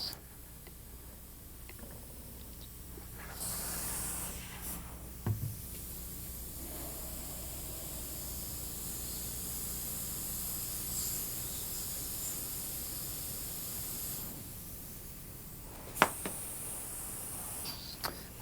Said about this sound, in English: I'm going to spray a fine line of one shade of green